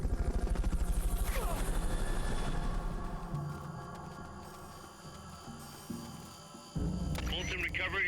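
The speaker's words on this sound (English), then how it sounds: "Fulton recovery helicopter is complete." A Fulton recovery helicopter in the video game Metal Gear Solid: Peace Walker gives a rhythmic rotor thump, loud at first and then fading under game effects.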